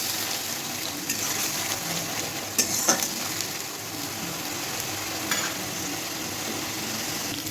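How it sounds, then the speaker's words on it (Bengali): Onion paste fries in hot oil in a wok with a steady, close sizzle. A few louder clinks of stirring sound over the constant hiss. "এবার পেঁয়াজটা একটু ভেজে নেবো।"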